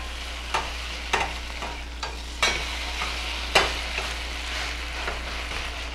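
Hash browns frying in a skillet, a steady close sizzle broken by several sharp scraping knocks as a spatula frees and flips the potatoes.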